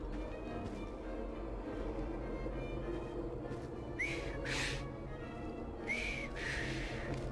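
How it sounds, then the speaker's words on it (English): A character in the video game Assassin's Creed Syndicate gives two short whistles a couple of seconds apart, fairly clear over a low ambient hum with no talk. "I've just learned to whistle."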